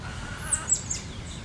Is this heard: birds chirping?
yes